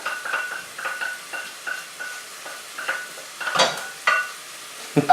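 Onion dumped into a skillet for mac and cheese, with soft sizzling and repeated scraping stirs in a quick uneven rhythm, close and alone, plus a couple of sharper clanks of utensil against pan.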